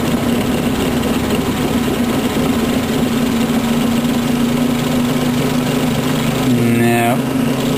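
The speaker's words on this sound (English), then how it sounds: "the little rotor's going too fast" A small magnet motor with its magnets set in repel mode spins its little rotor fast, giving a steady close hum that runs throughout and rises in a short burst near the end.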